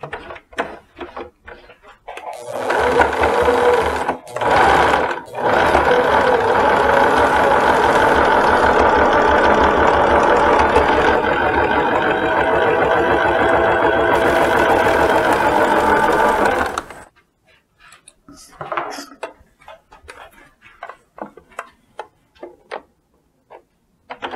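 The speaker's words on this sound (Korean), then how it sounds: "이렇게 해서 두 줄을 먼저 박아줍니다" A sewing machine stitches two rows on fabric for a pair of shorts, running loudly and steadily with a brief pause early on, then stopping, followed by lighter handling sounds.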